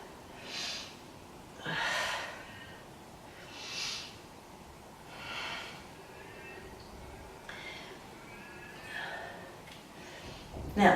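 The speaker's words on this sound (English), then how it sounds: "Let's take 3 breaths here." Deep yoga breaths taken slowly in a quiet room, about six soft airy inhale-exhale swells spaced roughly every two seconds, close and gentle over faint background hiss.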